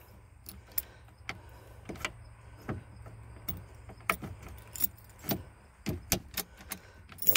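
Ignition lock cylinder clicking and scraping into the steering column of a 1982 Jeep CJ7, a run of sharp metallic taps and key-jangling clinks up close over a low steady hum.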